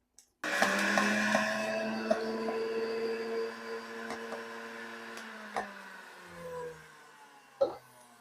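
A Hamilton Beach HealthSmart juicer grinds lemon and ginger in a loud, steady whirring motor drone, with tonal whine and occasional clicks and knocks, then slows and fades with a final clunk near the end.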